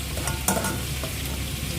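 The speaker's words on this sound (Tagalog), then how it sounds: "Nagpa-init na ako ng konting mantika lang lalagay natin na magigisa tayo ng sibuyas at bawang." Onion and garlic sautéing in a little hot oil for chicken with mushrooms in white sauce, a steady close sizzle with brief stirring scrapes, heard alone.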